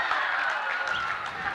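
Crowd applauding and cheering at a men's college basketball game against Fredonia, a steady wash of clapping and crowd noise filling the whole short moment.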